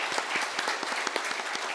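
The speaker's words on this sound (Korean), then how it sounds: "박수로 또 환영하고 격려하도록 하겠습니다" Congregation at a Korean Sunday church service applauding to welcome a missionary, steady dense clapping from a crowd throughout, moderately loud and continuous with no talk.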